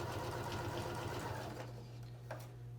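A sewing machine back stitches a pillowcase with a steady, rapid mechanical whir, then slows and fades near the end, with a faint click or two.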